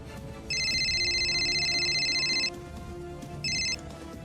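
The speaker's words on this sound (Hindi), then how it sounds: "ये फोन क्यों नहीं उठा रहे?" An unanswered telephone rings indoors: one long electronic trill lasting about two seconds, a pause, then a shorter burst, clear over a quiet room with no talking.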